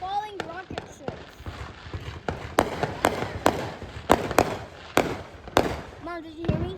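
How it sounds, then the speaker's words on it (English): Fireworks bursting overhead in a rapid run of sharp bangs and crackles, with falling whistles at the start and end and excited voices talking over them. "It sounds like falling rocket ships."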